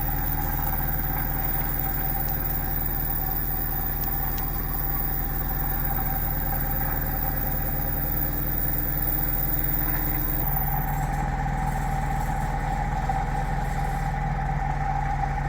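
A homemade magnetic switching motor runs at full power on about 45 volts, giving a steady, continuous mechanical hum with a constant drone that holds evenly throughout, alone and with no voices.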